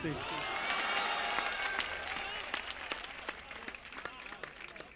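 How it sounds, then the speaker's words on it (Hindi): An audience claps at a mushaira, an Urdu poetry recital in Basti, India. The applause starts full and loud, then thins to scattered claps as it tapers off. "आपकी जवाब पर तालियां मांगता हूं"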